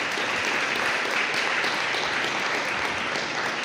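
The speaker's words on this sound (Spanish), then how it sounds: "Si darle un aplauso al Señor" Church congregation applauding during a Spanish-language sermon, a steady, dense clapping that fills the whole stretch without pause.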